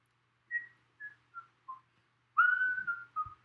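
Someone toots a series of four short descending whistle notes, then a longer sliding note and a final short blip, close and clear in a quiet room with no talking.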